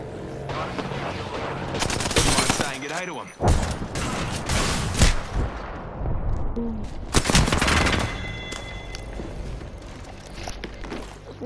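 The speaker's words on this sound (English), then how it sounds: "so he's about to shoot me" Rapid automatic gunfire and single shots ring out in an Apex Legends ranked match, loud and close in repeated bursts, with footsteps and thuds between them and a player speaking.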